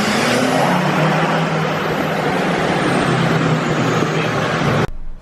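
A straight-piped 2012 Duramax LML diesel truck engine drones loud and steady with a harsh exhaust roar, running alone without speech before cutting off suddenly near the end.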